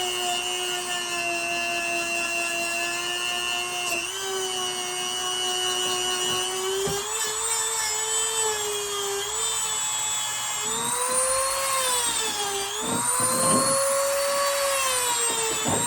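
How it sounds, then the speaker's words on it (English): Dremel rotary tool spun up to a higher speed on a pocket knife blade during a restoration, a loud, close, high whine that rises in pitch and wavers under load with no talking. "I think I may need to go ahead and change heads on this Dremel here in just a second. I'm going to kick it up even higher."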